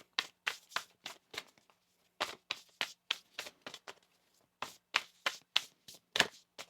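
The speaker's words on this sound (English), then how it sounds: "One more shuffle." Tarot cards being shuffled by hand at close range, a quiet string of crisp riffling bursts with short pauses between them and no talking.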